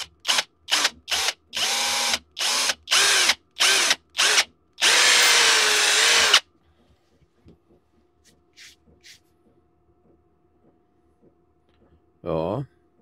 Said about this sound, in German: Jetzt mache ich da mit dem Bohrer ein Löchlein rein.